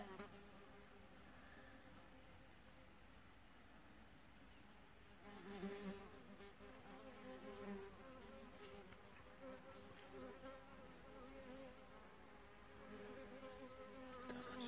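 Wasp buzzing as it flies around an apiary of overwintered honeybee colonies, a steady insect drone throughout with swells as it passes nearer, joined by the faint hum of bees, outdoors with no talking.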